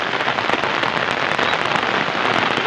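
Rain pours onto a cotton field in a village, a dense, loud, even patter of drops striking plants and ground without pause, close by and with no talking.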